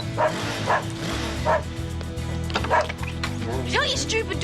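A dog barks and yips several times in sharp bursts, with whimpering mixed in, over a busy background of music and other noise.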